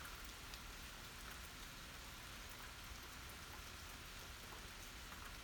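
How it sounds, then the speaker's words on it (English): Steady rain falls and patters on surfaces, with an even hiss that holds for the whole stretch and has no voices over it. It is heard at a low level, as if from a quiet room at night. "I'm just going to sit here and listen to the rain for a little bit."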